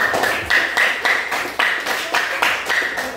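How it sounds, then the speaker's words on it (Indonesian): Applause for a group that has just finished a classroom presentation, heard as a small room of hands clapping in quick uneven bursts, close and fairly loud, with no talk over it. "Tepuk tangan buat kelompok 1."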